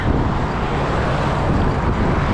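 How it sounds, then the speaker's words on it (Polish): Loud, steady wind in Iceland buffets the microphone with a constant roaring rush, dense and unbroken throughout, with no speech. "jak tu wieje. Straszna wichura"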